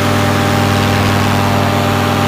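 Dell Schanze flat top paramotor engine running nearby, a loud, steady droning hum with strong low harmonics and constant vibration, no voices over it.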